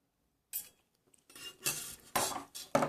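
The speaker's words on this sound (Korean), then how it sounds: "이렇게 물과 이렇게 소다를 넣었으면 이렇게 섞어줘요" Angel clay mixed with water and baking soda is stirred in a bowl, giving several short scraping and clinking bursts of a utensil against the dish after a quiet start, close and without speech.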